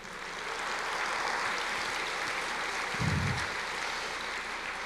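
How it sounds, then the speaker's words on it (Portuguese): A church congregation applauds the Lord, a steady, fairly faint wash of clapping that holds throughout, with one brief low thump near the end. "aplauda o Senhor."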